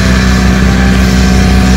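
A tractor engine runs steadily while pumping water from tanks, a close, loud, unbroken low rumble with a constant drone and no pauses.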